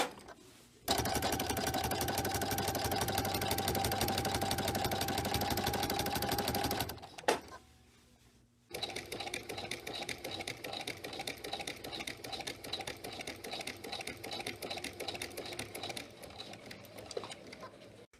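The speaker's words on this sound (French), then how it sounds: "Et je vais commencer à aller coudre en enlevant les aiguilles pour être sûr que je n'abîme pas mon aiguille de couture avec les épingles dans le bloc." Domestic sewing machine stitching through pinned quilt blocks for a reversible quilt, running in a steady loud whir for several seconds, pausing briefly, then resuming with a slightly rougher, pulsing stitch rhythm.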